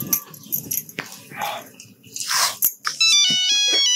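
A phone ringtone plays near the end, a repeating electronic melodic tone starting abruptly after muffled handling sounds and brief rustles, loud and close with no speech over it.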